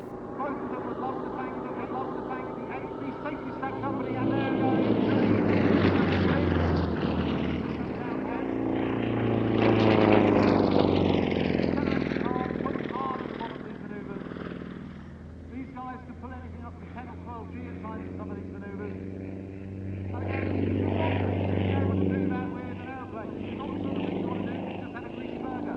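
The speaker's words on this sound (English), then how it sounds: "Leading the formation part of the display is the 2009 Red Bull Air Race champion, Paul Bonhomme." Propeller aircraft flying in formation at an airshow display, engines droning and swelling as they pass and fade, heard under a commentator talking over a public address system.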